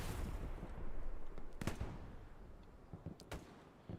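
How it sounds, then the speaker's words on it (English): Distant explosions and gunfire on a muddy Utah Beach battlefield in the video game Hell Let Loose, with two sharp blasts standing out from a rumbling, cracking background of far-off combat. "Explosion over here to the back"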